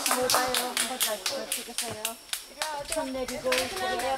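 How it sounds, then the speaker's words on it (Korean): A group of people claps in rhythmic bursts at the Blue Pool spring in Krabi, Thailand, sharp repeated hand claps close by with voices mixed in. "사람들이 박수를 치기 시작한다."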